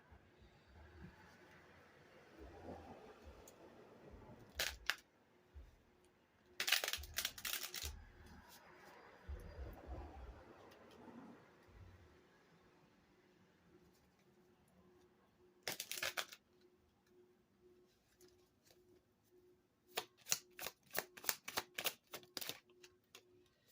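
Tarot cards being shuffled in bursts of crisp riffling and snapping, several separate flurries with quiet gaps between them, the last one a rapid rattling run, heard close up and without speech.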